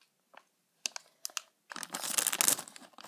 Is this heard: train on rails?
no